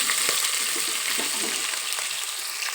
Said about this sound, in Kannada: ನೋಡಿರಿ, ಅವೆಲ್ಲ ಎಣ್ಣೆ ಕರ್ದವು.